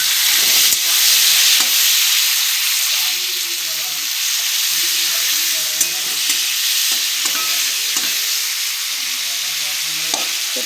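Tomatoes sauté in a pan, producing a constant loud sizzling hiss broken by repeated sharp spatula scrapes and stirring knocks, close up throughout.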